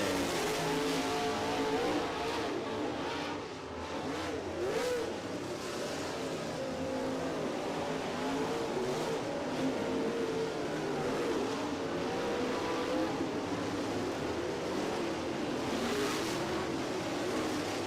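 MARS late model race cars run hot laps at Belle-Clair Speedway, their engines blending into one continuous roar that holds steady at mid distance for the whole stretch, with no talk.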